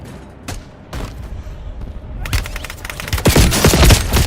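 Gunfire in the Warzone video game: a few scattered shots at first, then dense, close bursts of automatic fire that grow louder toward the end.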